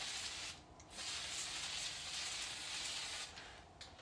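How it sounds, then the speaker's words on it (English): Fluid Film lubricant sprayed onto hedge trimmer blades from an aerosol can, giving a close, steady hiss that pauses once briefly and then stops. "this is just some basic fluid film. It helps protect the metal and lubricate it up"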